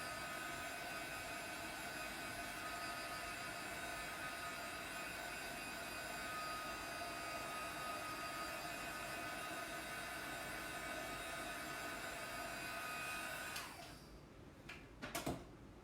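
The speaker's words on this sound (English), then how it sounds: "You don't want to get this close or too close with the heat gun because your ink can bubble up a little bit." A heat gun blows steadily over an ink transfer on a tea towel, producing a constant whooshing whine that cuts off near the end, followed by a few brief clicks and handling knocks.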